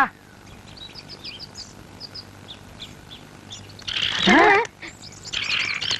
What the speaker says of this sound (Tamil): என்னடா தலையில கூடு கட்டி குருவி எல்லாம் பறக்குது